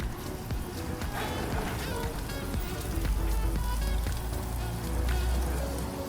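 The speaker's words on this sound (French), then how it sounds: "l'oignon et l'ail. On les fait revenir un peu." Chopped onion and garlic sizzle in a hot pan as they sauté for a tofu tomato sauce, giving a steady, close crackling hiss that runs the whole time.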